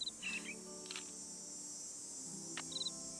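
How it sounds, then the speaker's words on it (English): Crickets in the Nancy Drew: Ghost Dogs of Moon Lake video game keep up a steady, faint high-pitched chirring, with a few short bird chirps over it. "That's crickets."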